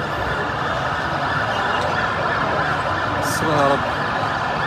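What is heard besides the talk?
fire engine siren arriving at petrol station fire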